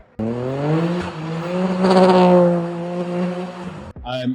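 A loud Toyota GR Yaris engine roars and revs steadily, rising in pitch briefly before dropping off, close and continuous with no talking.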